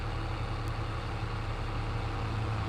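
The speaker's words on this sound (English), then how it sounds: "The old Hinterland is alive with the sound of tractors." Tractor engines in Farming Simulator 22 run as a steady low drone, a continuous heavy rumble that holds evenly throughout with no speech over it.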